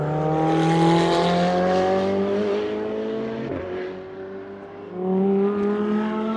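A Ferrari 488 Challenge EVO race car swings past on a circuit, its engine note rising and falling through gear changes and revs, loud and fairly close, with a brief dip as it moves away before picking up again.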